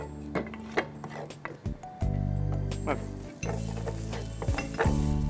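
Garlic sizzles loudly in hot olive oil in a pan for pasta sauce, with bursts of steady frying hiss broken by stirring scrapes and clinks of a utensil against the pan.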